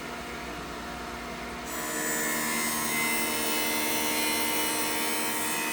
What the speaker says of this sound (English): we put the start button, and now the cycle begins